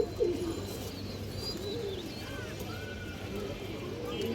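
Soft, low cooing from a pair of Kaldam pigeons, ring-eyed birds of an old bloodline, faint and continuous under someone talking nearby.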